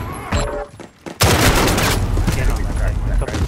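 Gunfire from a classic AK rifle in a video game: a brief opening burst, a short gap, then loud sustained rapid automatic fire that continues to the end, close and dense.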